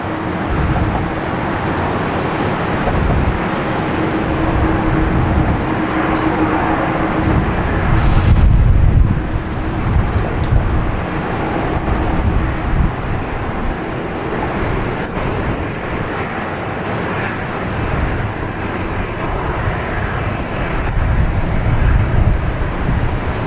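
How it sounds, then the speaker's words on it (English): Delta Airbus A321neo jet taking off at Boston Logan Airport, a sustained loud engine roar with a steady whine building and surging over twenty seconds amid wind buffeting, no speech. "next taking off is Delta heading to San Diego, flight 571 and A321neo."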